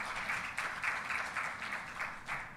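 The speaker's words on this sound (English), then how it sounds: "could you please give us another round of applause for the Minister of Environment" Audience at a Stockholm+50 youth consultation in Barbados applauding the Minister of Environment, a faint, steady round of clapping from a moderate crowd lasting a couple of seconds with no talk.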